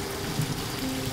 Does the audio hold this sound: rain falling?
yes